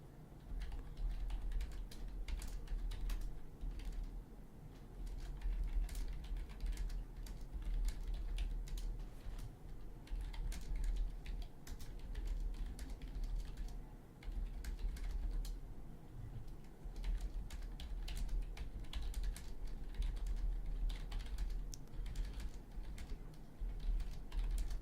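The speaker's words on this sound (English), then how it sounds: "typing a message to one of my admins" Fingers type on a computer keyboard in a quiet room, producing a long run of soft, rapid clicks and taps with small pauses over a low background hum.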